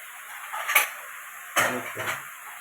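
Metal lid set onto a cooking pot of water lilies simmering in oil, two brief clinks, the second a louder clatter with a short ringing tail, against a faint background hiss.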